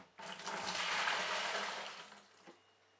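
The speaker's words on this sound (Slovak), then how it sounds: "Zoberieme si kýbel. Tu mám nachystanú prevarenú vodu. Tam vylejeme." Previously boiled water poured from a container into a bucket while preparing homemade wine: a steady, splashing gush that lasts about two seconds before tapering off with a final small splash.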